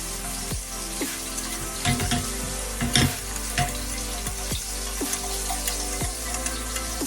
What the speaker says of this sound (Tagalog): And lalagyan na po natin siya ng cream. Ayan. Haluin lang po natin.